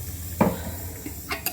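Masala with fried onion paste and whole garam masala frying in a pan for paye, a low steady sizzle with one loud scraping stir and a couple of lighter utensil scrapes.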